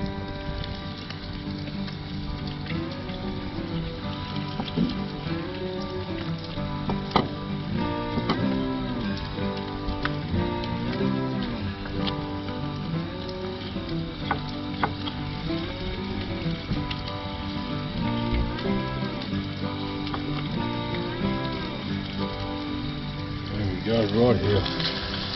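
Swan River tailor fish sizzling in hot oil, a dense steady crackle and hiss throughout, with music playing underneath the whole time.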